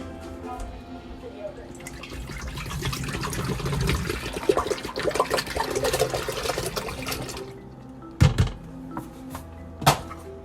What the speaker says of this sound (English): So let's start pouring everything in. All right, so first add your milk.